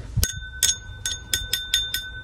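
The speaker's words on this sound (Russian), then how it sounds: "если по нему постучать палочкой, видите такой звон, который говорит о том, что это хрусталь" Lead crystal glass bowl, hand-painted, tapped with a stick about seven times in a steady rhythm, each strike giving a bright, clear, sustained ring, close and alone.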